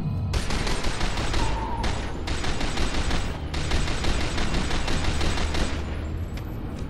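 Sustained, dense gunfire from a first-person shooter battle in F.E.A.R. 2, loud and continuous with rapid overlapping shots and bursts throughout, no voices.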